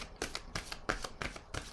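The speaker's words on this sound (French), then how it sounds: "Attendez, je vais déposer une carte ici." Tarot cards are handled at a table, giving a quick series of five or six crisp, papery slaps and flicks spaced evenly, close and dry with no voice over them.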